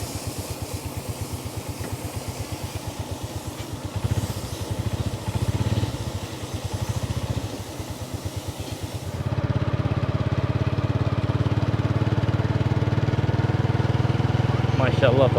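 A motorcycle engine runs at a steady idle nearby, a low, even chugging throb that grows louder and fuller about two-thirds of the way through.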